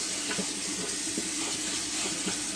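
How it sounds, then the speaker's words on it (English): Tap water runs steadily into a kitchen sink as it is rinsed out during home cooking, a continuous close hiss and splash with small bumps and no talk. "And I'll rinse out the sink."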